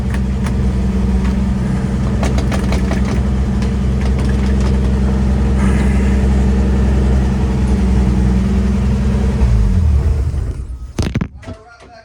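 A 1955 Chevy 3100 pickup engine runs steadily and loud with a deep low rumble while stuck in gear, then cuts off near the end, leaving a few clunks.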